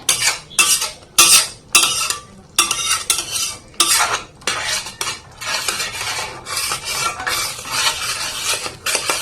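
Palm pitha mixture, made with ripe palm fruit, being stirred with ghee in a pan: repeated scraping, clattering strokes of a spoon against the pan, loud and close, in a steady uneven rhythm with no talking.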